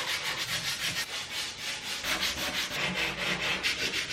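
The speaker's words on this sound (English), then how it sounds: "I will just sand it again." Dried wood filler on a dresser is sanded by hand in quick, rhythmic back-and-forth strokes, a close, dry abrasive rasp that pulses about twice per second with no talking.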